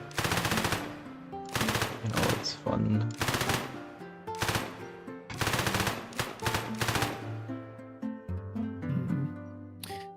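Submachine gun fire from a video game still in development, loud rapid automatic bursts repeating in several separate volleys with short gaps between them, and a voice speaking briefly over the shooting.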